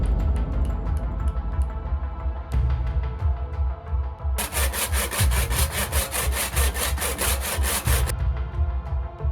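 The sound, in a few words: sawing stone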